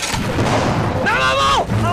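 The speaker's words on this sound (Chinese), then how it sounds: "把炮给我架上，朝他们给我轰！" Artillery cannon fire in a Sino-Japanese war film booms loud and close amid the sounds of battle, with someone shouting over the blasts.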